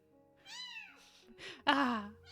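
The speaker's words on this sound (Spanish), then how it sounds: "¿Por qué lloramos cuando escuchamos a los gatitos llorando así?" A kitten meowing and crying in a series of thin, high, wavering calls that grow louder, ending with one strong plaintive meow close to the microphone in a quiet room.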